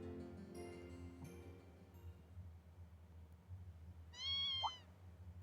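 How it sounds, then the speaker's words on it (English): A single high, thin kitten meow from the Trails of Cold Steel II video game, heard near the end over a quiet background hum after fading music. "What is a kitten doing here?"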